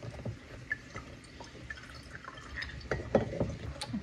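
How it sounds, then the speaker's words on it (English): Juice from half a lemon is squeezed into a cup of avocado oil, heard as faint, scattered drips and small liquid splashes. "I'm going to do the juice of half of a lemon."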